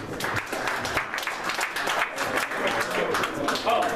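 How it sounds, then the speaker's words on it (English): An audience at an evening founders' talk event applauds, with dense, steady clapping throughout and a voice faintly audible underneath. "Give it a round of applause."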